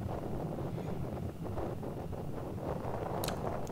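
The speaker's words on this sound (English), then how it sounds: "it was pretty blustery with wind speeds of over 30 kilometers an hour with even higher wind gusts" Strong, blustery wind gusting over 30 km/h on a sunny outdoor day, buffeting the microphone as a continuous loud low roar with rising and falling gusts.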